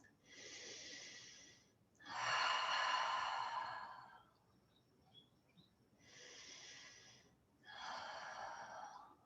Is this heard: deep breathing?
yes